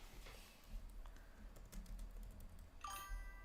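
Keys clatter on a computer keyboard in quick, uneven bursts, fairly close and steady across the whole stretch, with no talking over it.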